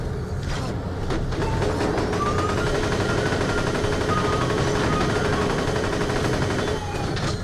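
Rapid automatic gunfire from a weapon in the shooter game Borderlands, from The Handsome Collection, rattles on continuously at close range. Faint mechanical whirs and creaks sound beneath the steady stream of shots.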